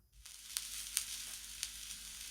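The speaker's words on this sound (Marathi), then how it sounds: "तवा छान गरम झाला की यामध्ये आपल्याला तेल घालून घ्यायचं आहे" Oil heating on a hot tava over a gas flame, ready for semolina-coated fish fry, gives a faint, steady sizzle with a few soft crackling pops and no talk.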